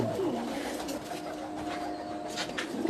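Racing pigeons cooing close by, with soft repeated low coos over a steady background hum.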